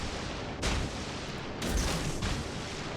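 Naval guns firing in World of Warships, from the Russian ship Storozhevoy: a loud, heavy boom early on, then a second burst of booming shots a second later with rumbling decay, set against steady ambient game noise.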